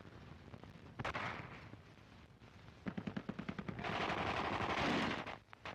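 Rapid machine-gun bursts and scattered rifle shots from street fighting in the 1944 Battle of Paris, a rattling volley in the middle followed by a dense sustained crackle of fire, loud and close with no speech.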